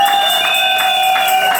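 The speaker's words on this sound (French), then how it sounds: "Applaudissons pour le Seigneur." A congregation at a wedding blessing claps together in a steady, regular rhythm, the claps blending into a broad crowd sound over sustained musical tones.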